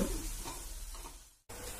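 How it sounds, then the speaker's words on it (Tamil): Chopped tomato and onion sauté with a little salt in a pan while raw mango chutney is made. A soft, steady sizzle and hiss runs throughout, broken by one brief silent dropout, with no voices. "இப்போ ஒரு மீடியம் சைஸ் தக்காளி கட் பண்ணது சேர்த்து வதக்கிக்கலாம்"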